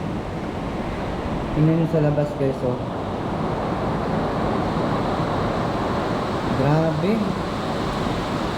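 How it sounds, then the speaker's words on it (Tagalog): Steady roar of super typhoon wind and rain throughout, with a person speaking briefly over it twice. "Malakas yung hangin, malakas yung ulan."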